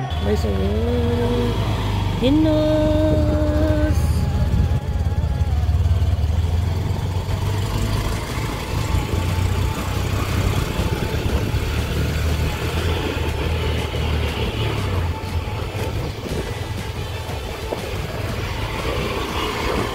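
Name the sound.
motorcycle engine idling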